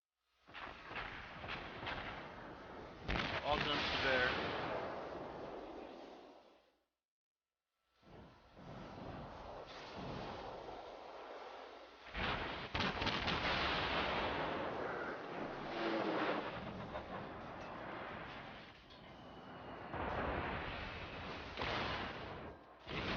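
Naval guns boom repeatedly during a World of Warships battle against cruisers and a battleship: heavy, loud blasts with rumbling tails fill the whole stretch, broken by one brief silent gap, with no voices over them.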